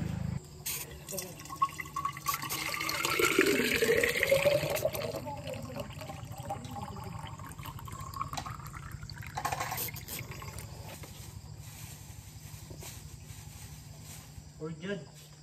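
Water trickling and filling a container while collecting water on a hiking trip, a faint pouring and dripping sound with a rising fill tone, heard under nearby talk and outdoor background noise.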